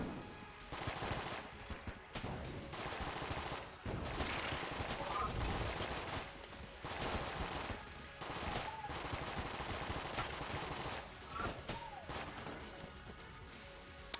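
Rapid gunfire in the video game Enter the Gungeon, with repeated bursts of shots and crashing impacts going almost nonstop, fairly quiet in level, with brief pauses between volleys.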